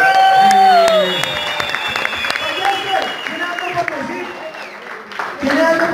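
Audience applause and cheering at the Valles-T vs Aczino freestyle rap battle in Cali, loud dense clapping with crowd noise that eases slightly and surges again at the end, under a voice speaking over it.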